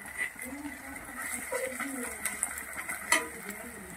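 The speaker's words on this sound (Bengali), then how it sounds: "দিয়ে রসুনটাকেও ভালো করে পেঁয়াজের সাথে ভেজে নেওয়া হবে" Garlic and onion fry in a pan for a goat meat curry while a utensil stirs them, giving a soft sizzle with scraping clinks and one sharper knock, all under quiet talk.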